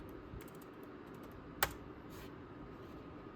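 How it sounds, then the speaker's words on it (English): Someone types on a computer keyboard to log on to Windows NT 3.1 Advanced Server. Faint, sparse keystrokes sit over a low background hiss, with one sharper key click standing out. "let's just type in administrator"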